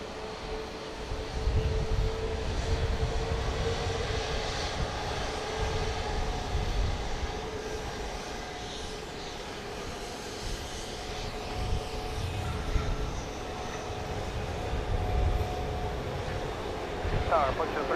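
A Southwest Boeing 737-700 arriving at Dallas Love Field from Lubbock, Texas, its engines producing a sustained broadband roar that swells and fades over the distant airport ambience.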